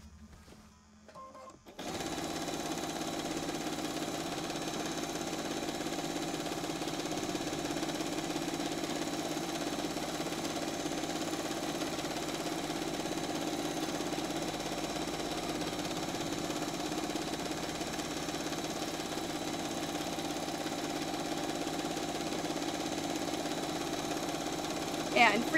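A sewing machine runs steadily for free motion quilting, a constant close mechanical hum that starts after a short pause and holds without a break to the end.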